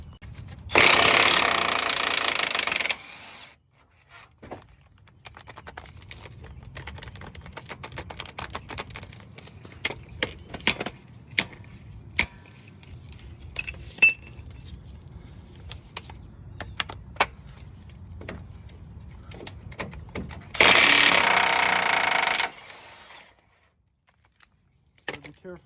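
Impact wrench bursts loosen the bolts holding the steering gearbox to the frame of an 2008 Silverado 3500HD Duramax, with two loud long bursts at either end and scattered metallic ticks and clanks of tool handling in between.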